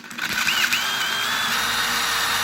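A DeWalt DCF887 impact driver that loses power when the trigger is squeezed fully runs close by, whirring up quickly and then holding a steady motor whine.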